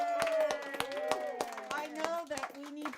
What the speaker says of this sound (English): I want to have a big round of applause for all of our poets tonight